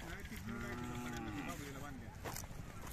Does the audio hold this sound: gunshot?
no